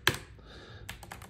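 Keys clack on a ProtoArc MECH K300 mechanical keyboard: a sharp first keystroke, then a few quieter, quick taps close to the microphone.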